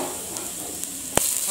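Steady close sizzle of onions frying in hot oil with fennel seeds, with a single sharp click partway through.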